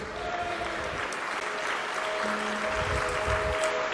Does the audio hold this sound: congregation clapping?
yes